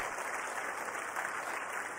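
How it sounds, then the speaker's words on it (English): Steady applause from an audience cheering the ISRO team at the SSLV-D3 launch, even and fairly quiet, a continuous patter with no voices over it. "Let us give a big round of applause to the entire team."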